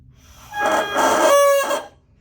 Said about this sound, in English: What I just did is called crowing. That's to make sure we can get sound out of our reed.